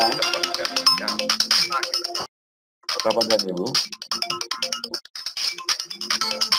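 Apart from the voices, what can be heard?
mobile phone ringtone ringing during a talk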